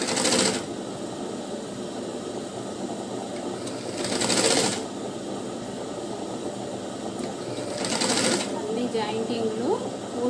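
A sewing machine runs steadily while stitching a lining blouse, with three short louder bursts of stitching over a continuous mechanical hum; a voice talks over it.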